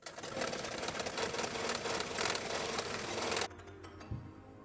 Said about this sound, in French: On pique en suivant la forme du thermocollant.